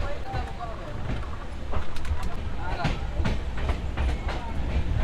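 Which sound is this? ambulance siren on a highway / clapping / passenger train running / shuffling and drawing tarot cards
passenger train running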